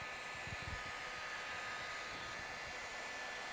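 Hot air blower heating a flat metal area on a vehicle body, a steady low airy whoosh throughout, quiet and constant with no talking.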